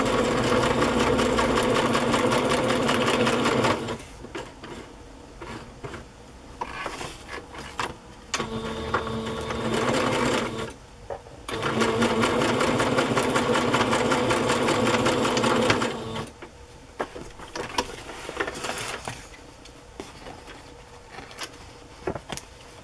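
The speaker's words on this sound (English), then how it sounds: "I want to sew this down, so I'm going to use a straight stitch to sew down there." A sewing machine runs a straight stitch on center pockets for cookbook journals, humming and whirring close and steady in two long bursts separated by quiet pauses and short stitching spurts.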